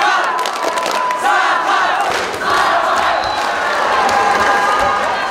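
Boxing fans roaring and cheering for a Yakut boxer at a bout, a loud, dense crowd with shouts rising and falling continuously.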